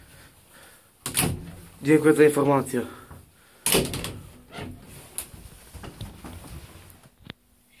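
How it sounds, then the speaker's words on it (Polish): The door of an old ZREMB counterweight lift in a Warsaw building is shut, with knocking bumps and a sliding metallic rattle before a final thud. A voice is heard briefly over the sounds. "Zamykaj dokładnie drzwi, wysiadając z windy"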